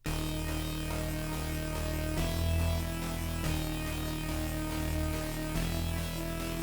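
A quiet, simple synth melody plays steadily with sustained tones and a few note changes, nothing else on top.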